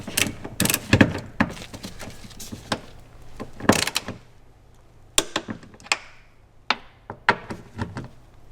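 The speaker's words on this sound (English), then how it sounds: "So now grab your torque wrench. I'm going to torque these up 54 Newton meters, which is 40 foot-pounds." Seat bolts on a 2008-2020 Grand Caravan minivan are tightened with a torque wrench, giving a series of sharp metallic ratcheting clicks and clunks in irregular bursts, close and fairly loud, with quieter pauses between.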